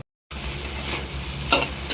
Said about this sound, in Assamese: ইফালে কলফুলৰ ভাজিখন ভাজি আছোঁ